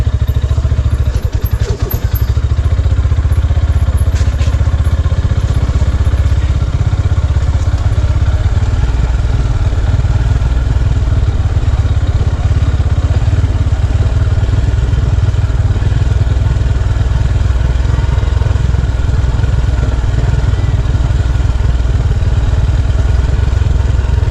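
A motorcycle engine runs steadily and loudly up close for the whole stretch, a constant low drone with a few clattering thumps near the start and no talking.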